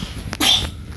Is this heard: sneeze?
yes